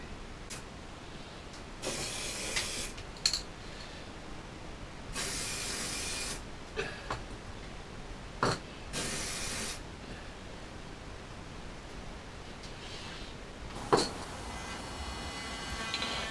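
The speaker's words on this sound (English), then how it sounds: "I'll just put a reference point on each end with a little marker spray." Several short hissing bursts of aerosol spray paint, each lasting about a second, separated by pauses with occasional clicks and light handling noises.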